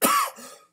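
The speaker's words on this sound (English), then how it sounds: "I have a little cough because I swallowed some cold water." A man gives one short, sharp cough after swallowing cold water, close and loud, with a softer throaty tail fading out.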